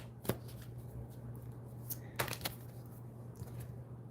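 Tarot cards are shuffled and drawn, heard as a few quiet, crisp riffles and flicks spaced apart over a steady low hum.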